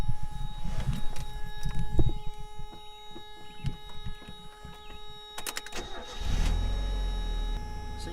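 A Mazda Miata with 90,000 miles cranks over and its engine catches, settling into a steady idle after a few seconds of clicks and knocks, heard close by without speech.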